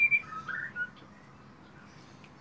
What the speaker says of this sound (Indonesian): Ini burung lama, burung juara juga.